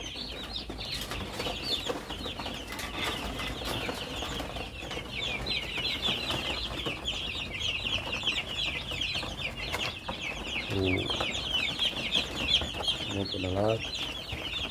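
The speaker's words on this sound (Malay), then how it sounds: "Ini ada ayam yang turun" Chickens clucking at a black soldier fly maggot farm, a busy overlapping chatter of fowl calls with occasional wing flaps, near and steady under someone speaking briefly.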